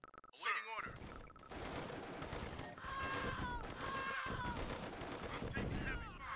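Gunfire from the Tiberian Sun strategy game comes in bursts of rapid shots mixed with game effects and electronic tones, fairly faint overall, with a unit's voice line briefly heard.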